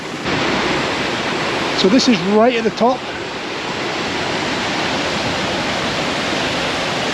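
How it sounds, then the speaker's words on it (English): Waterfall cascading down over rocks, a steady broadband rush of water that holds evenly throughout, with someone talking briefly over it near the middle. "There's the water working its way down through the rocks there and cascading down over there."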